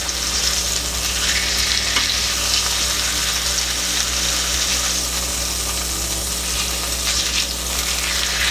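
Lamb sears in a hot pan with a loud, steady sizzle and crackle throughout, close and uninterrupted, with faint scraping as the edges are touched to the pan.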